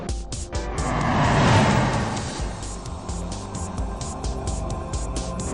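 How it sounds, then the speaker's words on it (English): A Skoda Laura with a 1.9 turbo diesel engine accelerating through its gears, a steady engine drone rising in strength then easing, heard from inside the car with no talk. "The car pulls extremely well through its gears."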